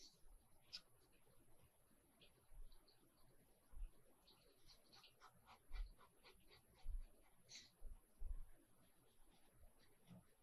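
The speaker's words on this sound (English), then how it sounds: "My dog, somebody's messing with her." A dog whines and whimpers in short, scattered bursts over a steady background noise, with a few soft low thumps mixed in.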